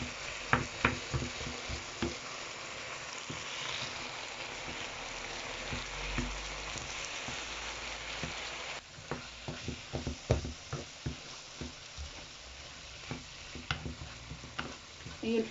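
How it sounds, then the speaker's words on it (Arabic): Moroccan pastry filling with spices sizzles and fries in a pan, a steady crackle broken by repeated clicks and scrapes of stirring, close and fairly quiet. "هي الحشوه بدات كتطيب معنا شويه"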